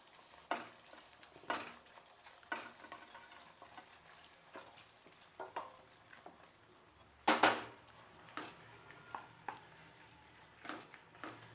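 Salt stirred into red sauce for macaroni pasta in a pan, giving repeated scraping and clinking strokes at an uneven rhythm over a faint sizzle, with one louder metallic clatter partway through.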